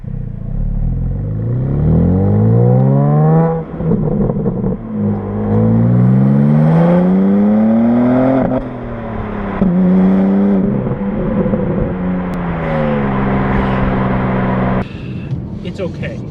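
A 2021 BMW M4 with a manual gearbox revs hard, its engine and exhaust climbing and falling repeatedly through the gears. The sound is loud and close, and people talk over it.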